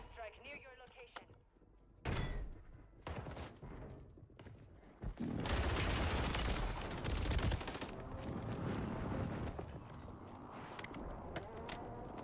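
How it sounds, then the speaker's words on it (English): Explosions and gunfire from a hostile airstrike in Call of Duty: Warzone on Rebirth Island: a sharp blast at two seconds, then a heavier sustained roar of booms and crackling fire from about five seconds on, with voices talking over it. "Hostile airstrike near your location."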